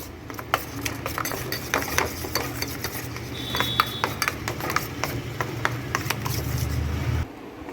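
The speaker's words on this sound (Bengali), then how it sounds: "সামান্য একটু সর্ষের তেল খুব ভালো করে একসঙ্গে মিশিয়ে নেব" A spice paste of turmeric, cumin powder and mustard oil being mixed in a bowl, with quick clinking and scraping strokes of a spoon, close, plus a low hum near the end and no talk.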